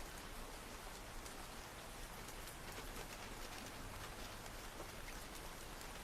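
Steady rain patters against a window at night, a dense, even wash of droplets with no pauses, close and moderately loud throughout.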